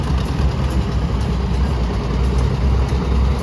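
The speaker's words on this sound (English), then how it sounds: "Here comes the tractor." Tractor engine rumbling steadily and fairly loud in a parade, a continuous low chugging drone that holds without clear change across the moment, no voices over it.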